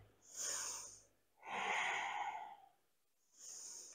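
Slow, deep breaths during a yoga bow pose: an audible breath, a pause, a longer fuller breath, another pause, then a third breath starting, close and clear with no talking.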